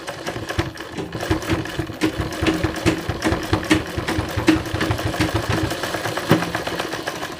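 A sewing machine stitching through 16 thick fabric layers runs in a fast, steady mechanical chatter of needle strokes, close and fairly loud, with no one talking.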